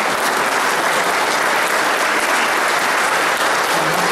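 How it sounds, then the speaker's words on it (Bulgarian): A hall audience at a Bulgarian pigeon breeders' federation 20th-anniversary gathering gives loud, continuous applause for the chairman, an unbroken wash of many hands clapping close and even throughout. "да поздравим с най-силни аплодисменти председателя"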